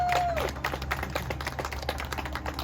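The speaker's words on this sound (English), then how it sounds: "So round of applause" Applause from a crowd at a Six Flags Over Georgia reopening ceremony for the Riddler Mindbender ride: scattered, fairly light clapping running steadily under a low outdoor hum, with one brief whistle-like tone at the start.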